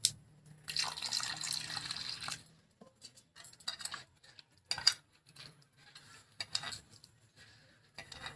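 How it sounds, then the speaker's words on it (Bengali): Water poured and stirred by hand into a mash of raw tamarind and small fish, a splashing pour at first followed by soft, irregular squelching, dripping and clinking sounds. "আর একটু জল দিয়ে দিচ্ছি।"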